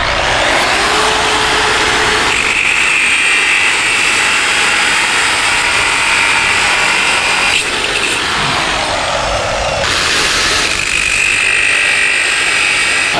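An angle grinder running off a Jackery portable power station cuts through spare sailboat rigging with a loud, close, continuous grinding whine that shifts pitch as it bites, dipping briefly partway through.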